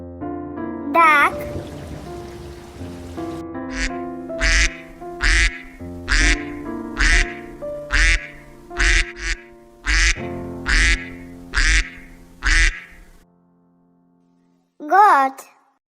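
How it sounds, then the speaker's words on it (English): A duck quacks about ten times in a steady, loud, evenly spaced series, close up, with a brief animal-like call before and after and no talk. "Duck."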